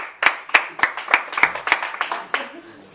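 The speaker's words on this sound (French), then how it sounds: "Là, c'est moi qui vous applaudis." One person claps hands about ten times in a steady rhythm at a gathering for a youth community group's first anniversary, crisp close slaps with short gaps between them, no voices over them.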